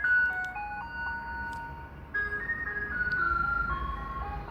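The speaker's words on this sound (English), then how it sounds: "this is like these fucking ice cream trucks. Hold on. They be so fucking loud." An ice cream truck passes outside, its looping electronic chime melody sounding fairly loud over road noise. The tune stays steady for several seconds with no talking.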